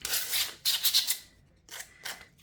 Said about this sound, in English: Just lightly run over it, all the face of your loom with the sandpaper.